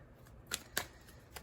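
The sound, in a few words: shuffling a deck of cards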